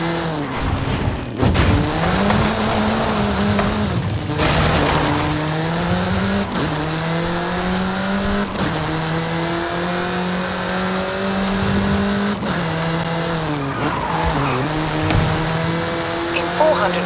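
A car in Forza Horizon 5 roars through repeated gear changes as it accelerates out toward the countryside, its engine note climbing and dropping in steps, with intermittent tire squeal, loud and continuous throughout.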